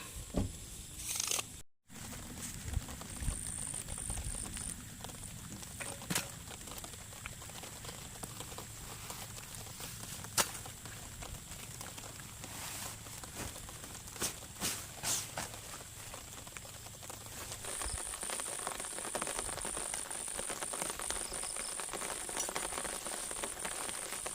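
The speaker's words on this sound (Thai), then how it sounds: "ฝนลงเม็ดหนามาเรื่อยๆครับ" Heavy rain patters steadily on a tent while camping near a graveyard at night, a dense close drumming with scattered louder drops and no voices.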